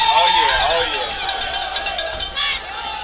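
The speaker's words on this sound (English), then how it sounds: "this Woodbridge crowd is getting excited here" Woodbridge home crowd at a high school football game against Milford, cheering and buzzing loudly at a distance during a kickoff, a steady wash of excited voices that swells briefly.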